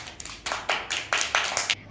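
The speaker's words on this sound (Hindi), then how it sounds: "ताली बजाइए आप लोग।" Children clap their hands in a classroom with a short burst of about eight quick, fairly close claps and no talking.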